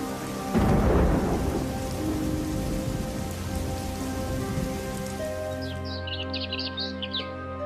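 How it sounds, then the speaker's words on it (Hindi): Steady heavy rain pours over a low rumble of thunder, with a few birds chirping faintly near the end. "गांव में इस बार जमकर बारिश हुई।"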